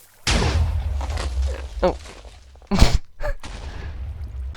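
A Minecraft TNT cannon fires with a loud booming blast followed by several more sharp explosive thuds, the bursts close and punchy, with a brief exclamation from a voice.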